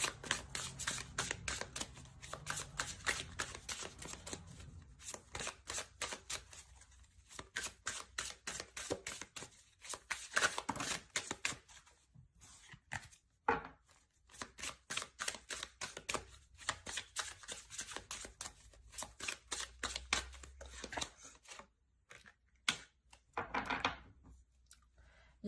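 Tarot cards are shuffled and drawn in fast, crisp riffling bursts that come and go, separated by short pauses and soft thumps, close and fairly quiet.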